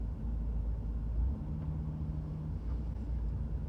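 A V10 TDI diesel car engine with a hard-start and misfire fault drones at a steady low pitch while driving, a continuous rumble with little change in level and no talking.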